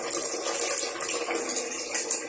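Tap water runs steadily into a container while water is being fetched, a continuous splashing gush heard up close with no talking.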